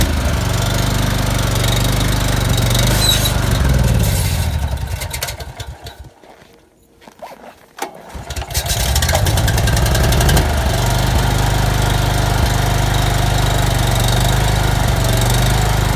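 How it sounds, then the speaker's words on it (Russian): A cold electric generator engine runs outdoors at minus 30 degrees, a loud, steady, rough mid-pitched drone that sags and nearly drops away for a couple of seconds midway before recovering to a constant run. "Генератор еще не прогрелся, поэтому так, наверное."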